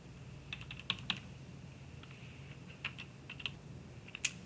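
An address is typed on a computer keyboard as a quiet, irregular run of key clicks over a low background hum.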